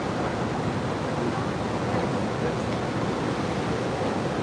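Sea waves wash onto the coast in Bali on a warm day, a steady, close roar of surf with some wind buffeting the microphone and no clear breaks.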